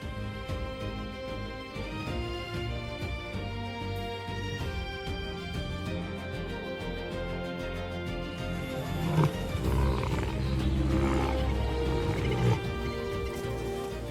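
Lions growl and roar in a tense standoff on the savannah, the deep guttural sounds sitting under a dense, steady bed of orchestral music that swells slightly toward the end.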